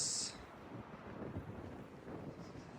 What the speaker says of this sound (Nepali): आहा मिठो हावा चलिरहेछ आज